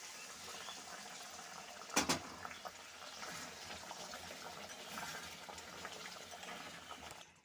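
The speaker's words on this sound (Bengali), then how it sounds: "তো আমি এখানে গরম জল অ্যাড করছি।" Hot water poured into a simmering pan of Bengali-style aloo dum potato curry gives a soft, steady liquid wash and sizzle, with a brief sharper splash near the start, faint and close.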